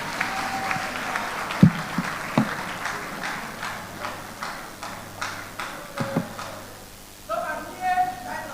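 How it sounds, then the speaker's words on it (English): Scattered clapping at a regional town hall meeting, a few sharp claps and irregular patting building into a moderate round of applause, with murmured voices and room noise underneath and a burst of music-like tones near the end. "Please welcome him with a round of applause"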